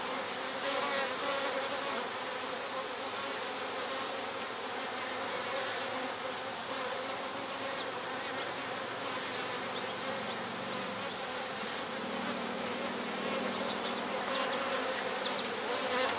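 A steady, close drone of honey bees fills an open hive from a colony that has swarmed, buzzing continuously without a break and with no talk.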